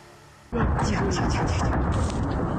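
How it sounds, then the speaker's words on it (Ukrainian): A steady, heavy roar of distant explosions from long-range strikes on targets in Russia rumbles on after a sudden onset, with repeated bursts blending into a dense, noisy wash. "Чуєте ці характерні вибухи?"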